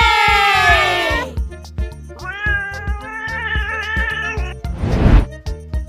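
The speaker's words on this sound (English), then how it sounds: "That is a cat." A cat meows in a long, drawn-out wail, then gives a second wavering meow and a short harsh cry, all over a steady background beat of music.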